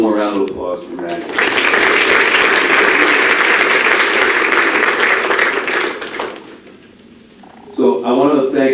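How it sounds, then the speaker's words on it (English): A burst of hearty applause fills a college athletics senior awards assembly, briefly framed by speech before and after, swelling quickly and holding steady before fading out. "One more round of applause for Maddie"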